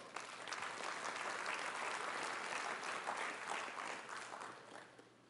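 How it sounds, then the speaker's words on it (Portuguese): A church congregation at a worship service bursts into sustained applause, many hands clapping in a dense, even wash that tapers slightly toward the end. "Então aplauda ao Senhor."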